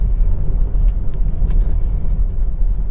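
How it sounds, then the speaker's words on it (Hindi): Car being driven and moving slowly, a steady low engine rumble with road noise, close and continuous, no talking. "अभी मैं मूव कर रहा हूँ देखिए अपनी कार को"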